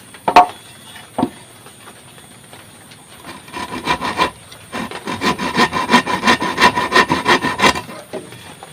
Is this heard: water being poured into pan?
no